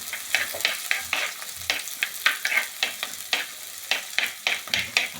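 Shallots, green chillies and tamarind frying in a pan for a homestyle tuna curry give off a continuous sizzle, punctuated by rhythmic scraping strokes of a spoon stirring them, close and fairly loud.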